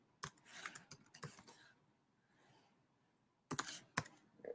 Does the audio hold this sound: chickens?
no